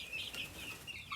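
A brief burst of quiet clucking from several young Bielefelder chickens, soft and close together.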